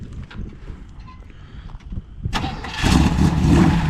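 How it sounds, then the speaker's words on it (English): A 1963 Chevrolet Impala with a performance cam is cranked over and fires up, a few quiet starter turns giving way to a loud, rumbling idle. "let me fire this thing up, see if it's gonna pop a couple times"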